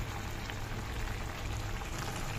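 Chicken frying in oil in a pan gives a steady, dense sizzle that holds at an even level throughout, with no voices.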